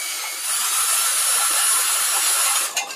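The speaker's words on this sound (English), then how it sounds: "Now I can tell that the drill is going to break through in a minute." A power drill whines steadily at high pitch as it bores through metal, with a brief catch near the end.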